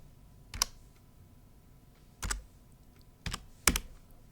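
Typing on a computer keyboard in a quiet room: four sparse, isolated clacks of keys, close and distinct, separated by pauses.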